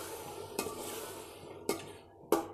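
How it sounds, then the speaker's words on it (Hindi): A spoon scrapes and knocks through yogurt being stirred into biryani in a pot, with three distinct clacks against the pot over a soft background sizzle. "अब इसमें डालेंगे दही। दही हमने लिया है 200 ग्राम, और इसे अच्छे से चला देंगे।"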